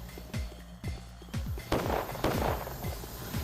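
Several sharp, booming gunshots in the video game Pathologic, spaced irregularly, each with a falling low thump, followed by a noisy burst of crackling reverberation; no talk in this stretch.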